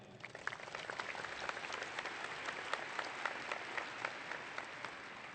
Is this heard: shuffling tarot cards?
no